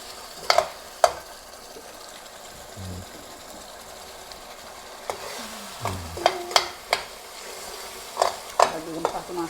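Spices for a gulai of tongkol (mackerel tuna) fish curry fry in a pan, a soft steady sizzle broken by a few sharp scraping stirs, close by, without talk.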